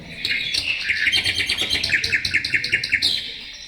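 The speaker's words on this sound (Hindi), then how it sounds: "जहां पर चिड़ियों के चहकने की आवाज आ रही है।" Several birds chirp and tweet in quick, bright repeated notes, close and clear, forming a lively continuous chorus.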